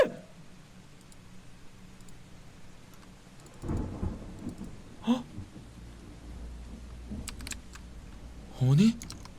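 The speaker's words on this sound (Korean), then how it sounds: "왜 갑자기 비가 와" Rain and rolling thunder in a horror video game, a soft hiss of rain under low rumbles that swell midway, with brief sharp cracks and a voice near the end.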